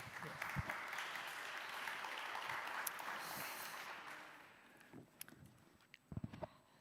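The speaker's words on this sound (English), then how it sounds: "Round of applause for..." Broad, steady applause from a conference audience fills most of the stretch, tapering off near the end with a few scattered claps and small knocks.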